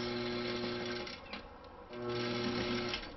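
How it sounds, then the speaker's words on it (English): Sewing machine stitching over the layers of a lace wedding dress near the waist, a close, steady mechanical whir with a short slowdown in the middle before resuming. "we definitely want to go ahead and sew over all these layers near the waist"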